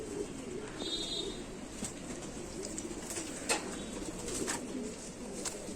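Sialkoti Sava Cheena pigeons, old big-headed birds, coo softly in a loft, their low throaty calls rolling continuously with a few sharper clicks and flutters over steady background noise.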